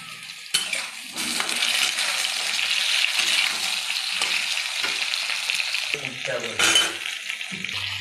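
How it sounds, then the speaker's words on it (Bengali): Potatoes and eggplant frying together in a pan for shukto, a loud continuous sizzle broken by clattering stirs and scrapes of a utensil against the pan, with no talk. "তারপর আলু দিয়ে দিলাম, বেগুন দিয়ে দিলাম। সব আমি একসঙ্গে এগুলোকে ভালো করে ভেজে নেবো আগে।"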